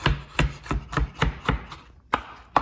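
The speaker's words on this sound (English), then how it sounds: "the clove just pops right out of the skin, making it super easy to chop up" A knife chops garlic cloves on a board in a quick run of about nine sharp, close strikes, with a short pause near the end and no talk.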